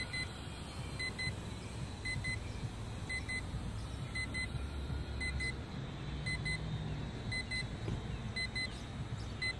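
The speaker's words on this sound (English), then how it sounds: "The transmitter is beeping." Repeated short high-pitched beeps from an RC transmitter for a Top Race TR-Q511 outdoors, sounding in regular pairs over steady broadband wind and ambient noise.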